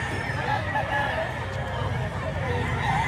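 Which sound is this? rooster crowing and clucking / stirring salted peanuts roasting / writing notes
rooster crowing and clucking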